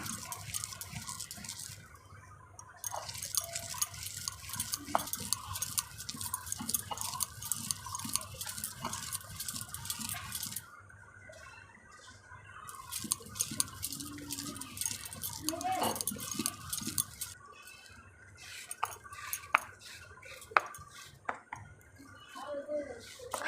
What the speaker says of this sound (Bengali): এই শিলনোড়া নাড়াচাড়া করতে খুব কষ্ট, কিন্তু বাটতে খুব মজা।